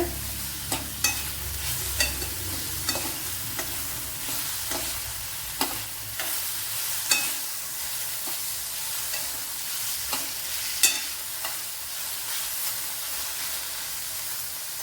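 Onion and chillies sauté in a pan for a Kerala-style bitter gourd dish, a steady soft sizzle punctuated by regular spatula scrapes and taps every second or so.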